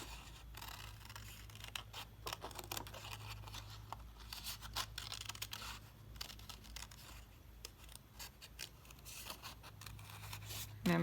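Scissors snip through paper while a chain-like strip is cut out for a collage, a steady run of close, crisp cuts and crinkles with no talking.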